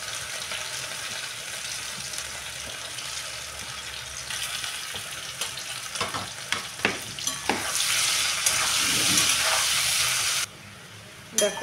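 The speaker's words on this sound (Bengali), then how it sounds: "এবার দিয়ে দেবো আলুগুলো আমি ভালো করে ভেজে নেবো" Potatoes fry in oil seasoned with salt and turmeric, a steady close sizzle broken by stirring clatters, swelling into a louder hiss before cutting off abruptly near the end.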